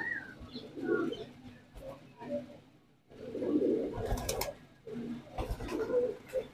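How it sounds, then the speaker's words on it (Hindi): Pigeons in a colourful breeding coop coo in repeated low throaty bursts, fairly close and steady, with a few wing flutters and some background noise between calls. "एक से एक कबूतर है उस्ताद के पास"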